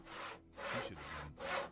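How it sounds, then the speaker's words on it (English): Wood being sawn by an NPC in the Gothic 2 bandit camp: three rough, rasping strokes in a steady back-and-forth rhythm, fairly close and heard alone without talk. "The sawing guy is annoying."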